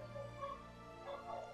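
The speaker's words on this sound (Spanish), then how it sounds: "Si se oye de fondo, la perra perrilla que la pobre pues ladra siempre que se le antoja." A dog barks and yips faintly in the background of a room, with a few short, soft yelps over steady low hum and game sounds.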